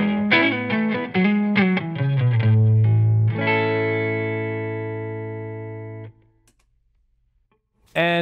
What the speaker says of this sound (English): We've got a deluxe reverb with a Creamback speaker.